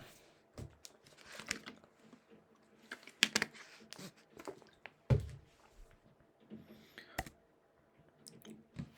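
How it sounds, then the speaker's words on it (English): Typing on a computer keyboard during an Arch Linux setup on a MacBook, with scattered close, crisp key clicks and taps arriving in irregular bursts over a quiet background. "type reboot."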